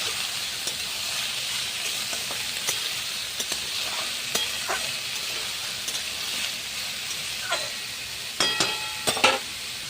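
Onion, potato and carrot fry with green chilli in a pan. A steady soft sizzle carries on throughout, broken by scattered spatula scrapes and clinks that grow busier toward the end, with no talk.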